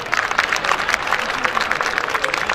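Audience applause at a live Gujarati comedy and storytelling program: a dense, steady wash of many hands clapping that lasts the whole moment, with a murmur of voices mixed in.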